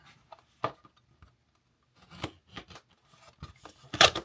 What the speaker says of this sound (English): I need a pair of scissors.